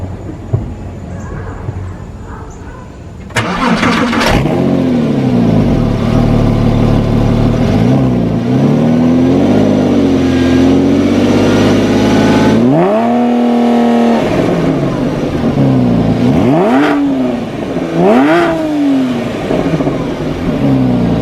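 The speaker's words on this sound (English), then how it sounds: "And this is the exhaust sound after the modification." A Porsche 911 after a cheap DIY exhaust modification starts up and idles loudly up close, then is given several sharp revs that each climb and drop back to idle.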